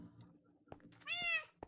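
A Siamese kitten in Minecraft gives a single clear, rising-and-falling meow of about a quarter second, preceded and followed by soft clicks and faint game ambience.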